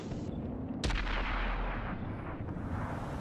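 A single heavy tank cannon shot booms in a video game island battle, a sharp loud blast followed by a long rumbling decay over low engine and ambient noise, with no talk.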